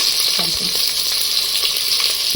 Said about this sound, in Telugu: మంచిగా ఇది ఫ్రై చేసుకొని సేమ్ బగారన్నం లాగా ప్రిపేర్ చేసుకోవాలి